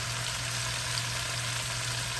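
Kale sizzles in a hot pan with smoked turkey, a steady, dense frying hiss with no breaks and no talking.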